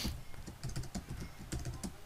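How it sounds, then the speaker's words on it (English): Quiet keystrokes on a computer keyboard while an SQL query is entered, a few clusters of soft, close clicks in an uneven rhythm. "So we have to type a where keyword"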